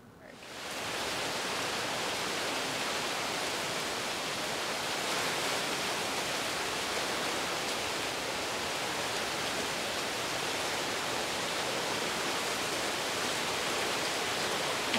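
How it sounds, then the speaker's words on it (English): Heavy rain pours down steadily during a dark afternoon storm, a dense, loud, continuous hiss that swells in within the first second and holds unbroken to the end, with no voices. "It is fixing to pour."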